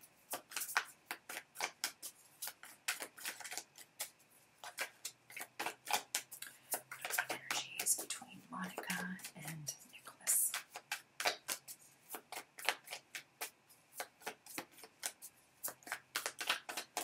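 Tarot cards shuffled by hand in a steady run of crisp riffling flicks and soft slaps, close and fairly quiet, continuing throughout with a brief murmur near the middle.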